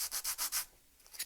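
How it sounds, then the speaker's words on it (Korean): A wooden biplane wing being sanded by hand with used sandpaper, four quick rhythmic rasping strokes close by, then a pause and one fainter stroke at the end. "저는 쓰던 사포를 갖고 왔고 충분하거든요."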